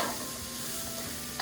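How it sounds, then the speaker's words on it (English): Thyme and rosemary sauté in a pan, giving a faint steady sizzle with light stirring scrapes and no voices. "Saute that up."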